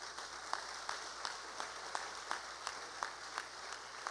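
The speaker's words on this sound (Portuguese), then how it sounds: "Você pode dar uma salva de palmas" A church congregation applauds during a service, a faint, distant wash of clapping with regular sharper claps standing out every fraction of a second.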